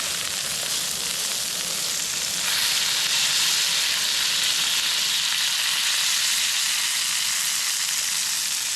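Food sizzles steadily in a pan on a camp stove at a woodland wild camp, a loud continuous crackling hiss that swells slightly partway through and holds without talk.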